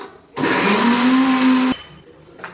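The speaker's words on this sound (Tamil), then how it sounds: "அது வதங்கிட்டு அரைச்சிக்கிறேன்" A mixer grinder blends sautéed onions in one loud, steady whirring burst of about a second and a half, which rises in pitch before cutting off abruptly.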